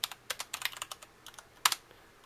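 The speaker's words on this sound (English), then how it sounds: "Type in any username you want." Someone types a short username on a computer keyboard, a quiet, close run of irregular key clicks in small bursts with brief pauses between them.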